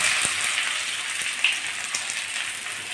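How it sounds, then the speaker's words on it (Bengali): Chopped onion dropped into hot oil for a Bengali tomato masoor dal, sizzling steadily and close with a broad crackling hiss and a few sharper pops, no voices. "এবার দিচ্ছি কুচিয়ে রাখা পেঁয়াজ"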